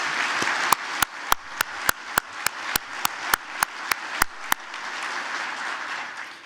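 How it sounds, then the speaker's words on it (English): An audience at a track and field coaches' convention opening session in Orlando applauds steadily, with a run of sharp, loud individual claps standing out near the front before the clapping thins into a softer, even patter. "give them a round of applause as well"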